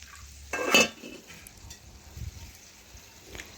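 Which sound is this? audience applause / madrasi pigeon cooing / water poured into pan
water poured into pan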